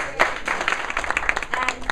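Audience applause at the NY Green Awards, a short burst of scattered hand claps that stays fairly faint and thin, with no voices heard.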